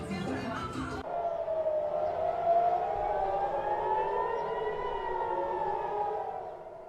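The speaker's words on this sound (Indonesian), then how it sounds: "saat sirine serangan udara berbunyi di Tel Aviv." After a brief burst of noise, a loud air raid siren wails steadily in Tel Aviv, its tone slowly rising and falling as it echoes across the area.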